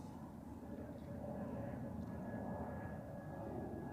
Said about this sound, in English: now we are waiting for the next landing, which is an EasyJet A320, I think, from Porto